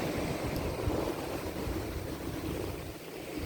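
Sea surf washing onto a remote beach at Anse Galets, Martinique, a steady soft roar of waves with wind buffeting the microphone, fairly faint and with no voices.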